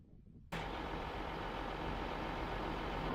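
After a brief quiet moment a truck engine starts up and drones steadily while driving out to an alfalfa hay field, a loud continuous rumble close by with no talk.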